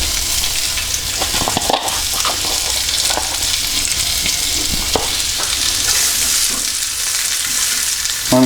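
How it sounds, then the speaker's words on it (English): Onions sizzle steadily in a hot pan as the start of a gravy for steak, with a constant frying hiss, occasional stirring scrapes and clicks, close and fairly loud throughout. "So the first thing that goes into the pan is the onions."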